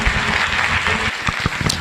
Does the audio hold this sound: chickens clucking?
no